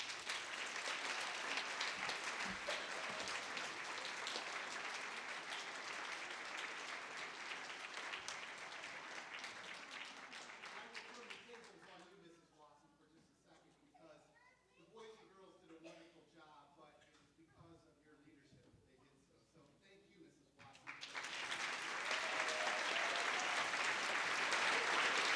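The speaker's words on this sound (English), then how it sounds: "Give a nice round of applause to Mr. Nichols." An audience at a primary school second-grade musical claps loudly in sustained applause, which dies down while a voice speaks over the hall, then surges back into full, dense clapping.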